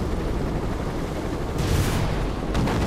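A powerful gun turret in the Avatar video game fires in dense, roaring bursts, with two sharper blasts rising over a constant loud rumbling battle din.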